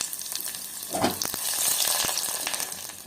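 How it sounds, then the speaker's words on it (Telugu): Chopped onions fry in hot oil for a mutton gravy, a steady close sizzle with a brief stir scrape near the start, swelling slightly and continuing without talk. "ఉల్లిపాయలు వేగిపోయినాయి, మటన్ వేసుకుందాము."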